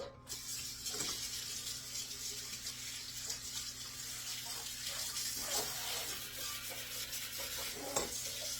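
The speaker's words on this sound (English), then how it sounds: "Let that water run in there." Tap water runs steadily into a kitchen sink while pineapple squares are being made, a continuous close hiss with a few faint knocks and clinks over it and no talking.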